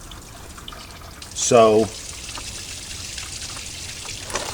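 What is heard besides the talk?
coolant fluid draining from Toyota Camry radiator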